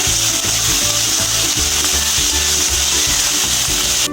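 Onion paste, grated garlic, ginger and potatoes stirred in a hot pan give a loud, continuous sizzle with rhythmic rubbing scrapes of the spoon, close and busy, no voices.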